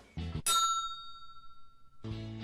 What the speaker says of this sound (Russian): Это был новый звук кнопки.